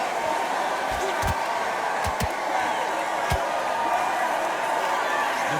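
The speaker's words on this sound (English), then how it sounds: "The crowd here cannot wait. They've been buzzing all day long" Arena crowd in the boxing video game Undisputed keeps up a steady, low murmuring buzz, broken now and then by a few sharp knocks or slaps.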